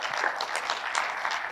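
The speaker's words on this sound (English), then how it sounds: "just a round of applause for him." Audience applause at a conference talk, a short burst of steady clapping from a crowd, moderately distant.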